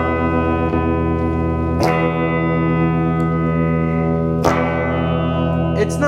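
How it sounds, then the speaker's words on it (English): A sustained chord through a mild cubic distortion effect, with a slightly gritty buzzing tone, briefly interrupted by a few sharp clicks. "It's not extremely distorted because that's a mild distortion algorithm."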